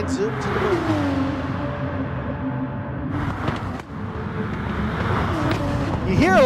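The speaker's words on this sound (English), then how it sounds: "what is all that popping noise coming from? That's from the exhaust, folks." Race car engine in a Gran Turismo race, a Michelin Asia Cup event with Porsche 993s, revving and rising in pitch with exhaust pops, heard under continuous excited commentary.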